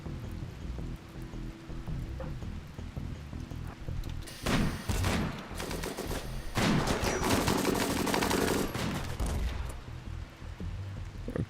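Gunfire from a crew shooting in the video game RimWorld, with dense, overlapping rapid bursts that build into continuous volleys, loud and close, and no voices over the shooting.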